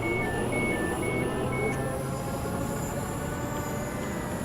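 A train rumbles steadily past at close range in the Train Sim World game, a continuous dense roar with faint high squealing tones over it and no pauses.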